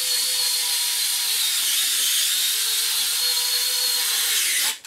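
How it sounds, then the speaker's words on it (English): Cross-head screws being driven into 3D printed plastic storage plates, a steady dense buzzing whir with faint ratcheting that runs continuously at close range, then stops abruptly near the end. "You put the cross screw top and you screw it together."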